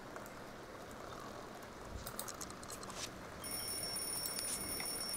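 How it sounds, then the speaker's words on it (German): An alarm clock in the video game The Sims 2 begins ringing partway through, a steady, high-pitched electronic tone that sits over soft, hissy background game ambience. "klingelt doch bestimmt gleich der Wecker"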